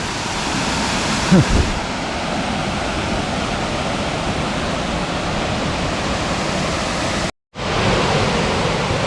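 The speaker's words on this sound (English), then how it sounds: "Another wonderful waterfall." Steady broadband roar of a waterfall fills the scene at close range, continuous and loud, with a brief knock near the start and a momentary dropout late on.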